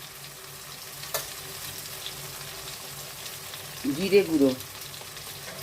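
Potatoes sauté in a pan with ginger and green chilli paste and spices, giving a soft continuous sizzle with a stir click, and a voice speaks briefly near the end.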